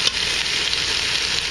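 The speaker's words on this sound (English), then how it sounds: "Flip that one again, let it sizzle on the other side a little bit." Oxtail pieces sizzle in a pan over high heat for a stew, a loud, close, continuous frying hiss with faint crackles and no talk.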